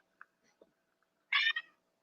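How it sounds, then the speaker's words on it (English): A cat meows in one loud, bright call with a short trailing second note, preceded by a few faint, scattered small sounds in an otherwise quiet room. "Yeah, it's a cat."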